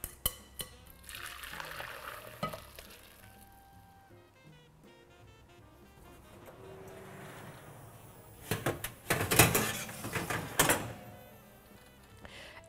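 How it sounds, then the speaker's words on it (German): Cooked spaghetti is drained in a kitchen, with water poured out of the pot. Scattered clinks and knocks of cookware come first, then a loud burst of splashing water near the end. "So, wir gießen die Spaghetti jetzt ab."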